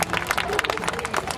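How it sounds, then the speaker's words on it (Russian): An audience applauds the parents at a concert by a folk dance ensemble, with dense, steady clapping filling the hall and some crowd noise mixed in. "эти аплодисменты звучат специально для вас"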